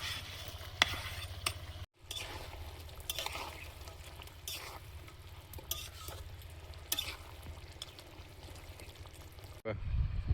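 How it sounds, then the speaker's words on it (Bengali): In a home kitchen cooking for fifteen guests, fish goes into a simmering spiced curry gravy, producing a continuous sizzle and bubbling with stirring and scraping, a brief dropout and a louder splash near the end. "মশলাটা কষিয়ে নিয়েছি, ঝোলটা ফুটছে, মাছগুলো দিয়ে দেবো।"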